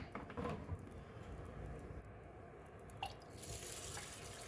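Water pouring and splashing into a rice cooker pot, a steady gurgling stream with small drips and clinks nearby.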